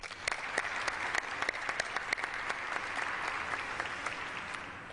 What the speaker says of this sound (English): We should applaud our Michigan National Guards women and men